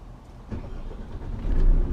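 Truck engine starting in the UK, a short low rumble that catches and builds into a steady deep idle, close and loud with no talk.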